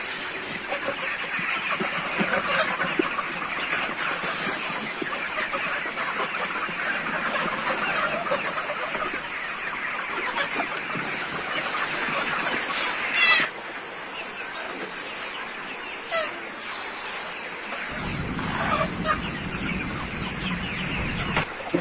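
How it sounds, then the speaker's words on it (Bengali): Farm chickens cluck and crow steadily throughout a poultry shed at morning feeding time, a dense, continuous flock chorus with one sharper call near the middle and a low engine-like rumble rising near the end. "এখন মুরগিগুলোকে খাবার দিব।"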